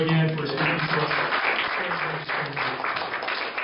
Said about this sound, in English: Another round of applause for Dr. Joe again for speaking to us.